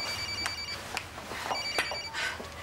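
A telephone rings in a soap-opera scene with bright repeated electronic trills in short bursts about every half second, fairly faint and slightly distant, with faint room noise underneath.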